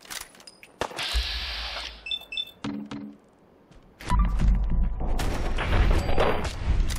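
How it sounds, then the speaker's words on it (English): Gunfire and explosive blasts in Fallout 4 as a raider turret is blown up, sharp shots and thuds followed by a loud, sustained rumbling burst, no talking. "So, let's blow up the turret."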